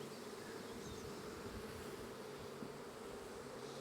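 Honey bees buzz over hive frames during a strong nectar flow, a close, continuous droning hum with no break.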